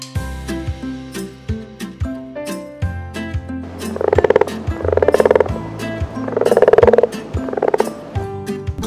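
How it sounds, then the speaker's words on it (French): A frog croaks in rapid ratcheting bursts, four loud pulsing calls over a sparse plucked and percussive children's music backing, close and clear. "Grenouille."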